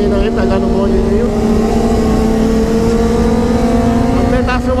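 A BMW S1000 motorcycle accelerates gently with a loud, close engine drone that climbs slowly in pitch over several seconds, riding along with other bikes.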